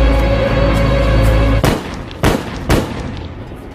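Three sharp, loud gunshots in a police chase scene from the film Chameleon, spaced about half a second apart, cutting off a heavy sustained droning tone.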